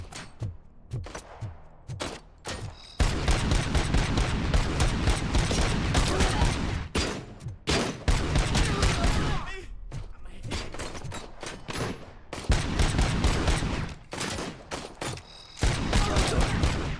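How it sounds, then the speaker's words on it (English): Combat shotgun fire in the RoboCop Rogue City video game, loud sustained bursts of heavy gunfire with brief pauses between volleys and a few thuds at the start. "let's swap out for the combat shotgun."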